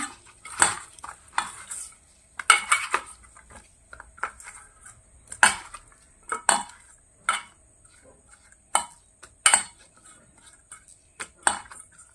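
Raw banana pieces and recipe ingredients being mixed in a pot, heard as repeated clinks and scrapes of a utensil against the metal at an irregular pace, close by, with no voices.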